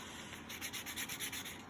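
Rhythmic back-and-forth sanding strokes on truck rocker trunnions, about ten quick scratchy passes in a steady rhythm, close up and fairly quiet.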